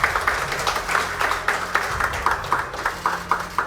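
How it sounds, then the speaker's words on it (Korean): Steady, evenly paced applause from a ceremony audience at the 10th Information Security Day event, greeting a recipient of the Order of Civil Merit Dongbaek Medal. Claps repeat in quick rhythmic bursts over a low hall hum throughout. "박수 좀 부탁드릴까요?"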